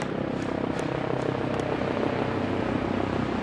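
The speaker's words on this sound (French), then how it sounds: "il y a un hélicoptère qui me survole" Helicopter overhead, a steady thudding rotor drone with rumbling engine noise, loud and continuous throughout.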